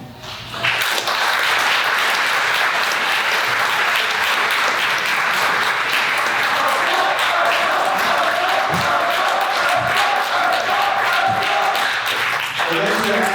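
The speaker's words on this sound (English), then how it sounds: "Please stand up, please, and give a very good round of applause." A standing audience at a high school graduation ceremony breaks into loud, sustained applause with some crowd noise and cheering mixed in, continuing steadily, while voices talk faintly beneath it.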